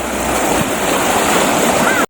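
River water splashes and rushes loudly and close as people bathe in cold water, a continuous wash of noise that cuts off abruptly at the end.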